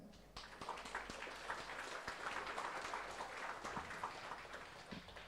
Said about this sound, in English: Let's give our applause for our speakers.